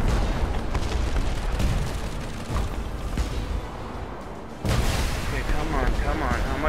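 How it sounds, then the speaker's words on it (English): Missiles slam into an airship in Airship Kingdoms Adrift as a sustained barrage of booming, crackling impacts with a sharp fresh blast near the end, loud throughout, with someone talking over parts of it. "Oh no, two more missiles."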